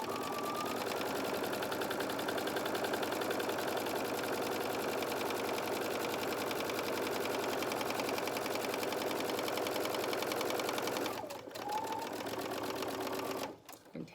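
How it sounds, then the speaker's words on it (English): A sewing machine runs steadily, stitching a quarter-inch seam along a fabric hair scrunchie, the motor's whir continuous for about eleven seconds before a brief pause and a short final burst. "I'm just going to do a stitch all the way along, 1/4 inch"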